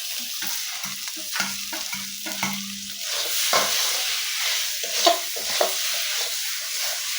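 Fried potato and cauliflower pieces are stirred into vegetables sizzling in oil, giving a soft continuous fry hiss with repeated scraping and knocking strokes of the spoon, close by and without speech.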